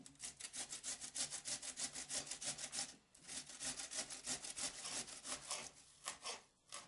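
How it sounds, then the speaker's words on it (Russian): A large peeled cucumber rubs back and forth over a coarse grater in a steady train of soft, wet rasping strokes, close but quiet, with one short break midway and no talking. "Огурец натрем на крупной терке."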